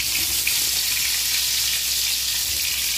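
Cardamom, cloves and cinnamon frying in a pan for an egg and amra korma, a steady bright sizzle running throughout without pause, close and fairly loud, with no voices.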